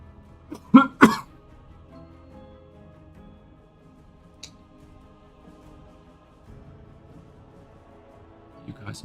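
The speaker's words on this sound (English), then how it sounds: "just coughing my guts up" Two harsh coughs close together near the start, then quiet room tone, a faint click, and another short cough at the end.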